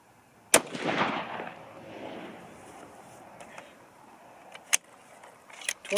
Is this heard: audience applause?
no